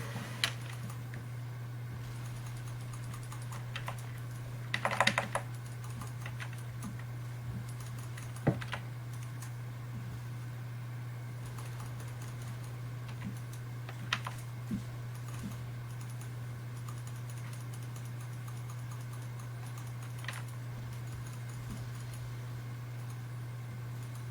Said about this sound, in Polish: Klikanie w wieże nic nie da, nie przyspieszy klepania mojej postaci.